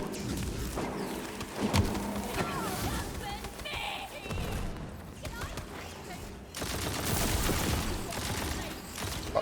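Rapid bursts of gunfire from a high-recoil gun in the video game Tiny Tina's Wonderlands, dense and rattling across the clip with short pauses, mixed with other game effects and a player talking over it.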